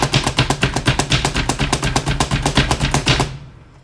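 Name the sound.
knife chopping a red onion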